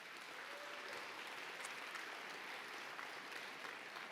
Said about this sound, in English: let's give another round of applause for all our honorees tonight